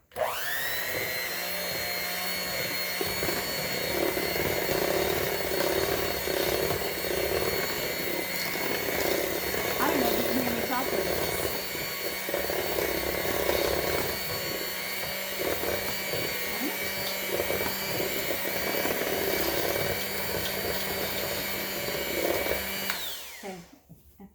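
An electric hand mixer whirs steadily through baking batter, a continuous close motor drone that runs alone for over twenty seconds before switching off near the end.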